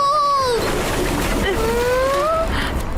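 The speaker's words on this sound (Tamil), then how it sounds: "தண்ணி மறுபடியும் நிறைஞ்சுக்கிட்டு இருக்கு" Water splashing and rushing as it fills a space again, with a voice speaking over the churning.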